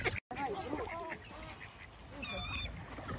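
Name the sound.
birds being fed, ducks quacking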